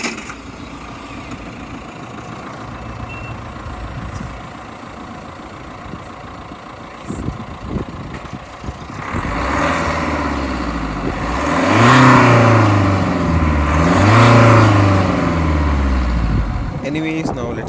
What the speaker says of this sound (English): Now let's start the engine and listen to it.